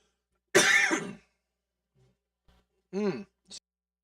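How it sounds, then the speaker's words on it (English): A single throaty cough close to the microphone, followed after a pause by a shorter cough-like throat noise in an otherwise quiet room. "I was about to have a cough there anyway, a little bit of a sneeze."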